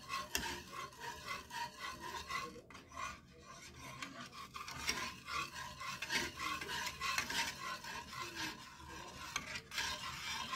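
Vegetable lumpia filling with soy sauce and cornstarch being stirred and tossed in a pan, a continuous close scraping and rasping of a utensil through the vegetables with steady rhythmic strokes and no talking.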